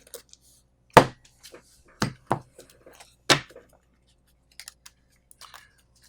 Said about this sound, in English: I will quickly shuffle my deck.